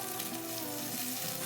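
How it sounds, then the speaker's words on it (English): Bacon frying in a carbon steel skillet on an induction cooktop, a steady close crackling sizzle with a faint underlying hum, no voices. "I'm actually liking the way this bacon is cooking a little bit better"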